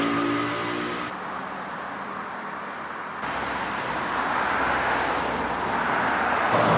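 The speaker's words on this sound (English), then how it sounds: "Forgive the road noise, by the way" Steady roar of road traffic with vehicles rushing past close by, continuous and fairly loud throughout.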